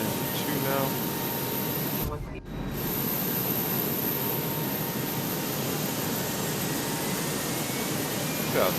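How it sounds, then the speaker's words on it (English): A jet airliner engine spools up and runs inside Microsoft Flight Simulator 2024, a steady broadband roar and hiss with a brief dip in the middle before the even drone resumes. "Alright, engine 1 is started."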